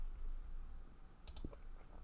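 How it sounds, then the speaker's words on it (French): A pair of quick mouse clicks in Photoshop, sharp and close, standing out briefly over a low steady background hum with no talking. "Je clique OK."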